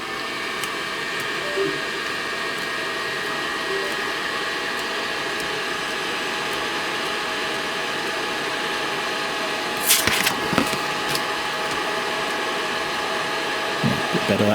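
A Mr Carve M1 Pro galvo laser machine powers up and runs with a steady broadband fan-like whir and faint tonal hum, punctuated by a brief burst of louder clicking and rattling near the end.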